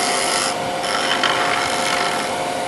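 A woodturning tool cuts into a spinning wooden sphere on a lathe, giving a continuous scraping, rasping hiss with a steady hum underneath, close and even, alone without talk.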